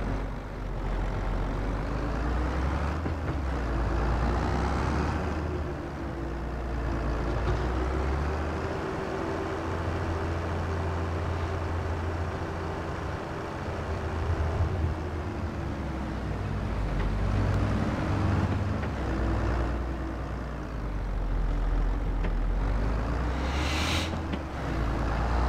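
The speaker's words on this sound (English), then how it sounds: "Pretty good little tractor here. This Valtra has 190 horsepower, medium-sized tractor, runs well" A medium-sized 190-horsepower Valtra tractor in the Farming Simulator 22 video game drives steadily with a loud, continuous engine drone and rumble, the pitch shifting slightly with speed throughout.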